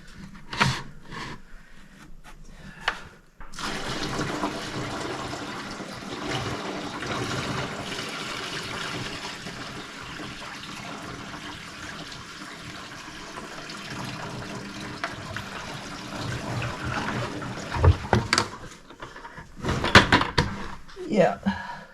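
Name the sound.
boat bilge pump running with water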